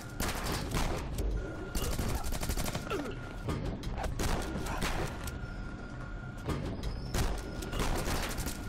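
Dense bursts of automatic gunfire in the co-op shooter Rocketbirds Hardboiled Chicken, rapid volleys repeating over several seconds with brief pauses, loud and close, a voice briefly heard among the shots.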